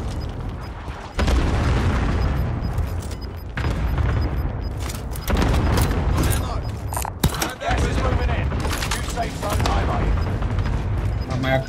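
Bombardment in Call of Duty: Modern Warfare: heavy booming explosions roll in one after another, mixed with bursts of gunfire, starting after a brief quieter opening and staying loud and chaotic throughout.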